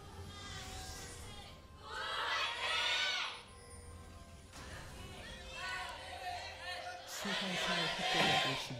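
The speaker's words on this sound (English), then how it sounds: "That was actually the most chaotic cheer I think I've ever heard from a Korean audience" A Korean esports crowd at an LCK League of Legends match cheers chaotically for team Anarchy in three loud swelling bursts of shouting and screaming, with a commentator talking in between.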